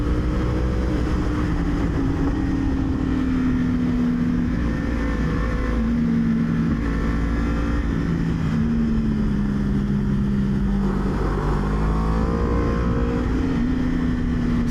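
A Yamaha R1 1000cc sport motorcycle engine runs loudly and continuously while riding down a descent, its pitch rising and falling as the throttle and speed shift, with the roar of the engine dominating throughout.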